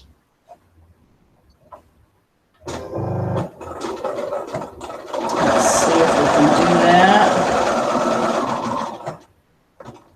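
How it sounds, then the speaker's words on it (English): A domestic sewing machine runs a steady whirring burst of fake top stitching through a holiday quilt, preceded by a shorter run and a few handling clicks, heard close and fairly loud. "We have to do some fake top stitching, it looks like."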